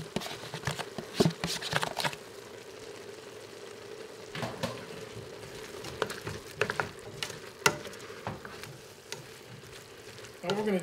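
Andouille sausage added back into a pot of jambalaya with chicken and shrimp, giving a steady close sizzle with bursts of stirring and clatter, while a voice talks intermittently over the cooking.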